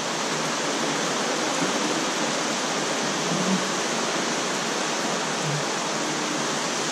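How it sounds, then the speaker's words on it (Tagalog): Heavy rain falling in a steady, dense broadband hiss that stays close and uniform throughout, with no voices. "parang lumakas na naman ang ulan ha"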